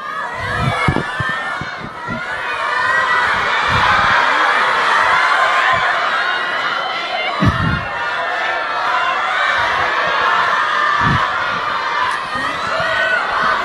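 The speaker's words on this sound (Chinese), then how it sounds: "来，我们掌声送给两位现场幸运的朋友" A live crowd at an Honor phone launch event cheers and claps for two lucky fans, a loud continuous wash of applause with shouts and scattered laughter.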